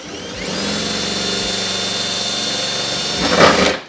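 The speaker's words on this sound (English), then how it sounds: "let me drill through it right now" A power drill whirs steadily at close range through a plastic tab for several seconds, its pitch holding level before a brief louder surge as it breaks through, then stops.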